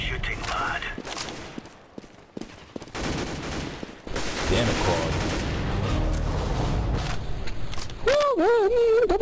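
Bursts of gunfire in the tactical shooter CS:GO during a tournament qualifier match, loud rapid volleys and single shots mixed with game effects, under excited voices talking over the action.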